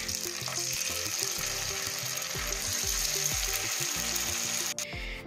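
Pieces of bean (sim) dhoka fry in hot oil in a pan, giving a loud, continuous close sizzle with a brief clatter near the end.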